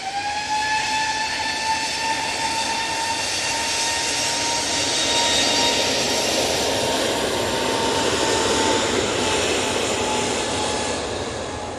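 An easyJet Airbus A320neo departs Manchester Airport for Oslo. A steady, broad jet roar with a thin high whine holds at an even level throughout, with no pauses.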